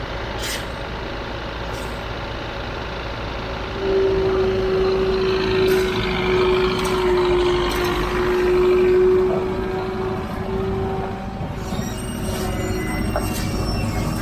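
A truck idles steadily as debris is cleared and loaded during a clearing operation, its low engine rumble continuous, with a sustained hissing tone in the middle and scattered clanks and knocks around it.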